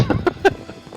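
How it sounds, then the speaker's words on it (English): Horse hooves galloping, a quick run of close, hollow clip-clop beats over about a second, loud at first and tapering off. "I'm gonna try to edit in some like horse hoof sounds there"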